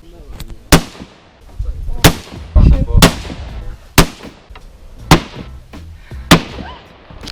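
Sharp gunshots crack out one by one at irregular intervals, about eight in all, loud and close, with quieter handling noise between shots.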